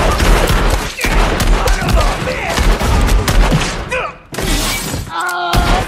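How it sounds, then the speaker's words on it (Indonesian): A loud gunfight shootout in the cowboy film Django, with rapid volleys of gunshots and shattering glass, a brief lull midway, then more firing. "Aksi saling tembak terjadi."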